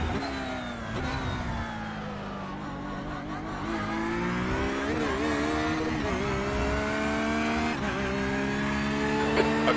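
Porsche 911 GT3 R race cars lap the Red Bull Ring in iRacing, a loud continuous engine roar that rises and falls through gear changes, with several cars blending and revving close by.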